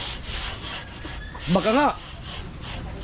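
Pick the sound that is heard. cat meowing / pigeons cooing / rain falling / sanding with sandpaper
sanding with sandpaper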